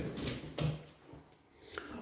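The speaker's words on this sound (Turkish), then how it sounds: "Evet kapımızı kapattık." A steel front door of the Kalem brand swings shut in a duplex house entrance, a single soft thud with a brief latch click, followed by quiet room tone.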